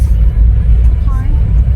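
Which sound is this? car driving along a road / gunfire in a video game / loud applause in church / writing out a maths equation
car driving along a road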